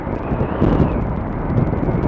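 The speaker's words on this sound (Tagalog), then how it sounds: "Lakas kasi ng hangin." Strong gusts buffet the microphone during a motorcycle ride from Oton to Mandurriao, Iloilo, Philippines, a steady broadband rumble with no voices.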